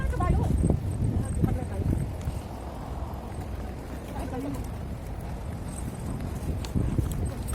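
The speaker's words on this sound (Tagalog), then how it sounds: "Yun yung karera ng kabayo" Hooves clatter in quick, overlapping beats on hard ground at a horse race, with a low rumble and crowd noise mixed in throughout.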